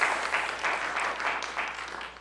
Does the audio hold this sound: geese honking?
no